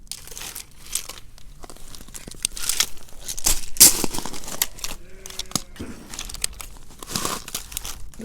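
Scissors cutting the strings off an old window blind, close, busy crinkling and rustling with sharp snips and tearing-like crackles throughout.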